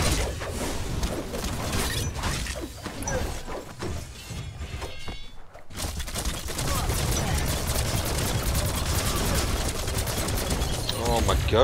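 Gunfire from the video game Biomutant, rapid bursts of shots and clattering impacts mixed with game effects and music, briefly dropping out before resuming as dense continuous firing.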